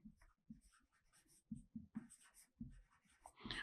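Chalk or marker writing out a mathematical limit expression on a board during a French math lesson, a series of short scratchy strokes in quick bursts, close and fairly quiet with no talking.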